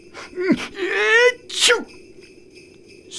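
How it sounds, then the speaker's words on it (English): Santa sneezes in a told Christmas story, a voiced "achoo" done by a narrator: a couple of close, loud sneeze bursts with a gasping intake between them. "Santa, you sneezed!"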